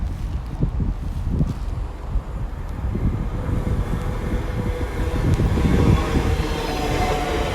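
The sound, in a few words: TfL Rail class 345 train passing through Maidenhead station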